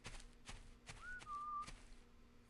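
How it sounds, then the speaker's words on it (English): An old man sitting on a bench at Bowerstone Quay in the 2004 video game Fable gives a short two-note whistle, rising then holding steady, clear and fairly close over faint background taps. "This old man sitting on a bench was trying to whistle me."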